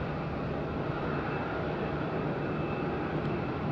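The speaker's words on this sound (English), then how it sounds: "EasyJet pushing back. Quick turnaround." A steady, broadband roar of an EasyJet jet on the ground at Madeira airport during pushback, loud and continuous with no talk over it.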